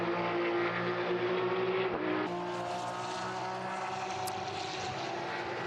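Porsche race cars of the Porsche Sports Cup Suisse at Monza give a steady, loud engine roar that holds from start to finish, with a shift in pitch partway through as a car passes.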